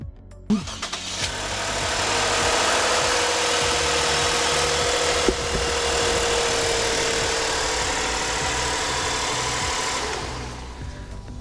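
2015 Lexus IS250 engine started and left running, a loud close idle that settles into a steady hum after the start and then cuts off near the end.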